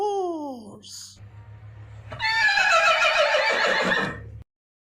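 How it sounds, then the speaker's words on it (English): A horse gives a loud, quavering whinny lasting about two seconds, rising then trailing off, preceded by a brief higher animal call and a short rustle. "Horse."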